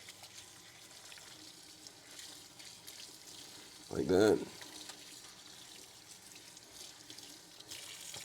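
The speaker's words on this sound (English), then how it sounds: "when it comes to rinsing, I go ahead, rinse off my sponge" Tap water runs into a kitchen sink while a sponge is rinsed, a short splashing burst mid-clip amid quiet background, with a person speaking briefly.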